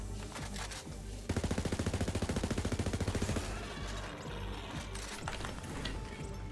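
Rapid automatic gunfire from a gun in Borderlands 3, a fast, even burst of loud shots lasting a couple of seconds, then trailing into game noise and scattered effects.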